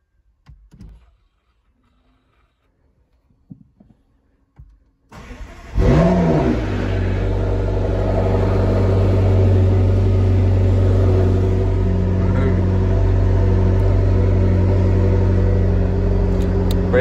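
A McLaren 650S Spider sports car starts up from a quiet cabin: a few soft clicks, then the starter catches and the engine bursts to a loud rev before settling into a steady, deep idle heard up close from the driver's seat.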